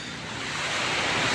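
Calm sea waves wash steadily onto the beach at Ilihan, Batangas, a soft continuous rushing surf with light wind noise on the microphone, gradually swelling slightly louder and heard alone without voices.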